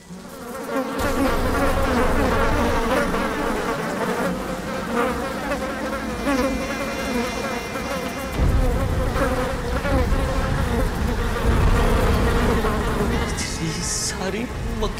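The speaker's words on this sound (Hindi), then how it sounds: "मक्खी मक्खी मक्खी मक्खी मक्खी।" Swarming flies in a cartoon superhero scene buzz loudly and continuously for the whole stretch, a dense droning hum layered over background music and sound effects.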